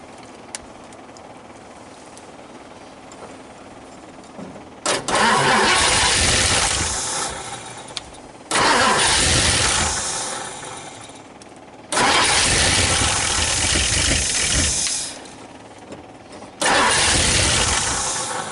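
A 1959 Ford Fairlane 500 Galaxy engine, unstarted for over 20 years, cranks and catches in four loud bursts, each roaring up briefly then cutting out between quiet pauses, with no talking.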